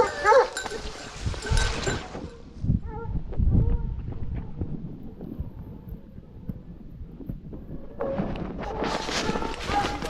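Hunting dogs bark and give tongue in a thicket during a hunt in Corrèze, bursts of barking near and far with rustling in between, alongside people talking.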